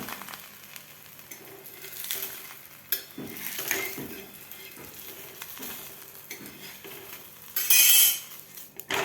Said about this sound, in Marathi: आता आपल्याला हे दोन्ही बाजूकडून आपल्याला खरपूस असा पराठा असा भाजून घ्यायचा आहे